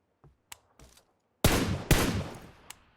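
Gunfire from PUBG Mobile in a solo vs squad match: a few faint pops, then two loud, close, sharp shots with rumbling tails about half a second apart, with no talking.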